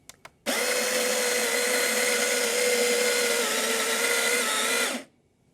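A Baratza Sette stepped espresso grinder grinds coffee beans in one steady, loud whirring burst of about four and a half seconds, preceded by two quick button clicks and stopping abruptly into silence.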